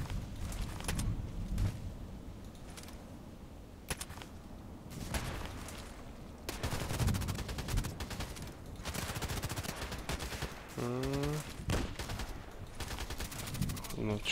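Gunfire in a sniper video game: a dense run of sharp shots and bursts at close range, some rapid like automatic fire, over a steady game background, with loud impacts recurring across the whole stretch.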